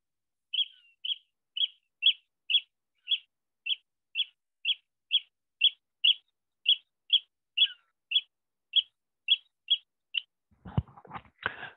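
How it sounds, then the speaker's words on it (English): Oystercatcher call, a long series of about twenty sharp, high piping notes repeated at a steady brisk rhythm, clear and close against silence, followed by a burst of handling noise at the end. "So I'm now going to try an oyster catcher call."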